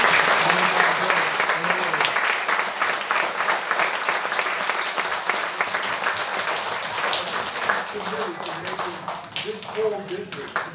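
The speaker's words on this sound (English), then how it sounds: "I don't know if you gave a round of applause." An audience at a school event claps loudly and steadily throughout, with the applause slowly thinning toward the end as voices start to come through.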